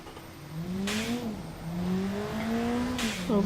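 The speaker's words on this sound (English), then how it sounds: "Well, we didn't hear the turbo engine before," Turbocharged engine in the Automation car game revving repeatedly, pitch climbing and dropping in several pulls with brief bursts of turbo hiss or blow-off between them, close and loud with no voices.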